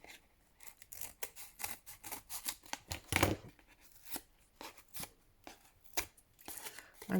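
Scissors trim the edges of old book pages for a junk journal, a run of short crisp snips and paper rustles with one louder cut, close and quiet, with no voices.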